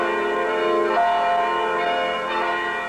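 Church bells toll for a memorial mass, rich ringing tones sustained and overlapping, with a fresh strike arriving near the end, loud and steady with no voices.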